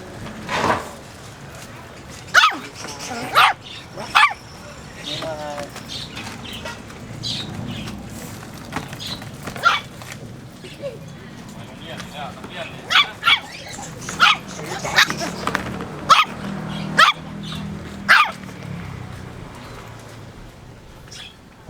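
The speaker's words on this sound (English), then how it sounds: "There's some puppies here." Puppies barking in scattered sharp yaps over a steady background murmur at a local market in Pattaya, with people talking at times and occasional birdsong.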